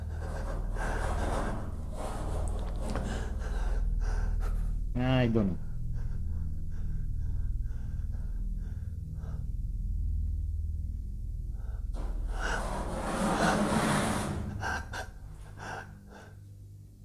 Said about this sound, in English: there's this kind of breathing